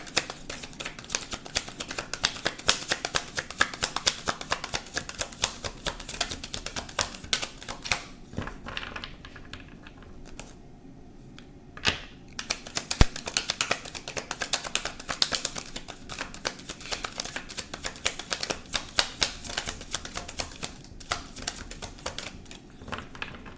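Tarot cards are shuffled by hand in a steady, rapid run of crisp riffling flicks that goes on nearly throughout, pausing briefly partway, with no talking.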